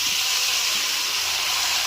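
Meat added to a hot pan with chopped tomato, a loud, dense, steady sizzling hiss right up close, unbroken for the whole moment with no voices.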